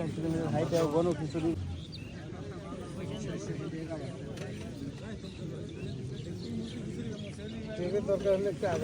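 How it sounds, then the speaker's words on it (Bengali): Birds chirp and coo steadily around an outdoor resort gathering, the calls blending into a constant background beneath nearby voices and crowd murmur. "পাখির কিচিরমিচির শব্দ"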